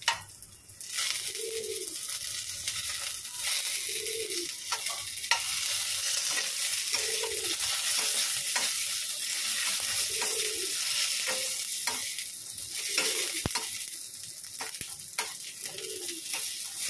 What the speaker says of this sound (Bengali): ওই জন্যই কালো জিরে ফোড়ন দিয়ে ভাজছি অল্প তেলে